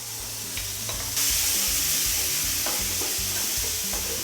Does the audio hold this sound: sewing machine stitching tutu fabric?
no